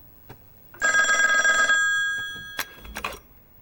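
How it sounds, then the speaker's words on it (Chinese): A telephone bell rings once in a sustained, bright trill lasting about a second, followed by a few sharp clicks and handling knocks as the receiver is picked up indoors. "啊，我接个电话。"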